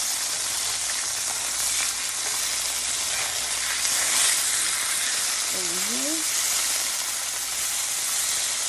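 Chicken pieces sear in a hot skillet with a loud, steady sizzle and hiss throughout, while a brief, quiet voice cuts in near the end.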